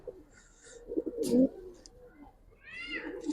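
Pigeons kept for sale, including Giribaz and coloured fancy breeds, give soft low coos in a short burst, with a few brighter chirps layered over a quiet room murmur.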